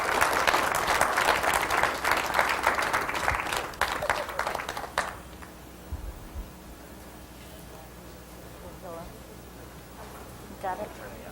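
Audience applause for a speaker at a talk, a dense burst of clapping for about five seconds that then stops abruptly, leaving a quiet room with faint rustling and brief murmurs.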